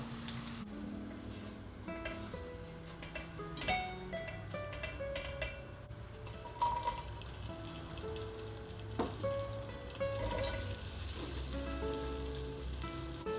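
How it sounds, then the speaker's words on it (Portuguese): Onion frying in a pan, a steady close sizzle and crackle that runs throughout with occasional clinks of utensils and pan. "enquanto nossa cebola vai fritando"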